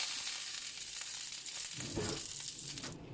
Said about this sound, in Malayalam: കടുക് പൊട്ടിയതിന് ശേഷം അതിലേക്ക് വറ്റൽ മുളകും കറിവേപ്പിലയും കൂടെ ചേർത്ത് കൊടുക്കുക.